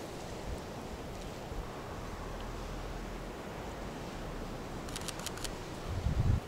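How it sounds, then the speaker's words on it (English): A camera shutter fires at a slow shutter speed outdoors, a short burst of several faint clicks near the end over steady wind and distant surf. "Let's try and get a shot like that and have a look at what effect a slower shutter speed has."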